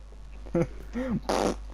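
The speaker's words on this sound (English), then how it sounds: "Who's making fart jokes now?" A short series of fart noises comes in three bursts, the last one loud and breathy, over a steady low electrical hum.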